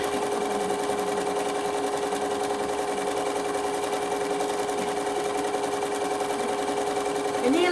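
A Bernina sewing machine stitches rapidly while quilting a fabric storage roll for patchwork blocks, producing a steady, fast mechanical whir with a fine repetitive needle patter, close and continuous, ending with a brief rising whine.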